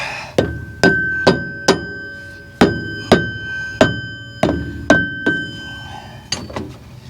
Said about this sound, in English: line the keyway up, give it a tap